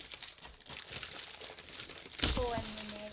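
Plastic packaging is crinkled and rustled steadily while a diamond art kit is being unboxed, building to a louder crackling burst near the end.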